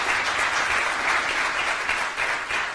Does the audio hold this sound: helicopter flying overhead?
no